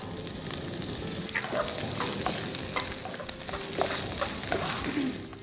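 Red capsicum with yellow and green zucchini stir-fried in a pan for a Jain Schezwan fried rice, a steady sizzle with occasional scrapes and knocks of the spatula, no voice.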